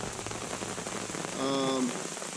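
Heavy rain drums steadily on a tarp at a camp in Big Sur, a dense close patter throughout, with a brief voice-like tonal sound rising over it toward the end.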